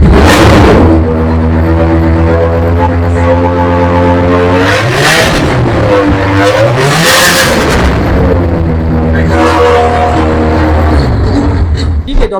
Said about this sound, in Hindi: इसको जरा स्टार्ट करके दिखाएं आप। सर बिल्कुल check now we will see कि इसका साउंड कैसा है